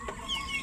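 Chickens kept as pets cluck in short, close bursts, with a higher bird call threading through the brief moment and no speech.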